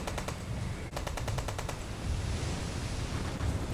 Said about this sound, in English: I'll even engage them with my long distance guns until the AA can open up